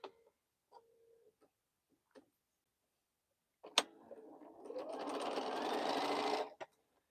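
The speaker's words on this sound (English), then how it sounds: "And sew this together." A domestic sewing machine runs in one steady burst of stitching as quilt segments are joined, preceded by a few faint clicks and handling sounds, close and fairly loud.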